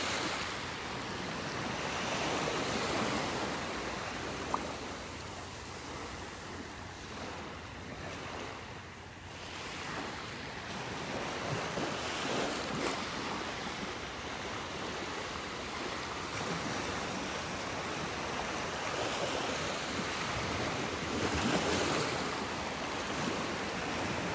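Small ocean waves break steadily on a beach shore in North Naples, Florida, making a continuous washing surf with light wind rumble on the microphone. No one speaks.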